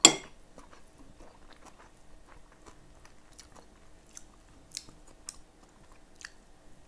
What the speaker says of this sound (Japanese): じゃあちょっとチャーハンから味見しておこ